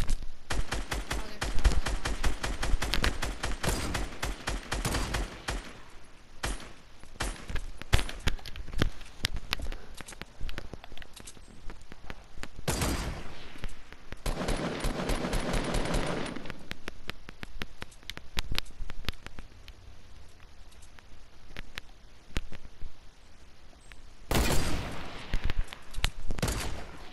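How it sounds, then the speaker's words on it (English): Sustained gunfire in Fortnite, rapid rattling automatic bursts and single shots almost nonstop for the whole stretch, with a few louder heavy blasts standing out. "we're taking fire"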